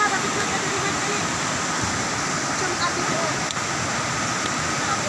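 Aliwagwag Falls, a tourist waterfall, roars as a steady, loud, broadband rush that fills the whole clip without a break.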